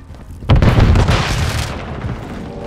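A grenade goes off in Call of Duty Modern Warfare 3 multiplayer with a sudden loud, deep blast that rumbles and slowly decays over about two seconds.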